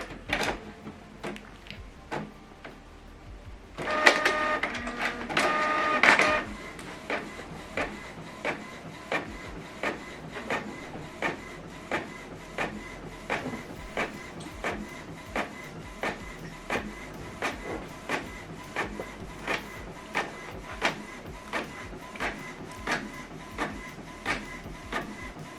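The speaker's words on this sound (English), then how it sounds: "Now this document now is going to print out here." A Canon or Epson printer running a double-sided print job: a motor whir and paper feed at first, then a long, steady train of evenly spaced mechanical clicks and clunks as the sheet moves through, close and alone.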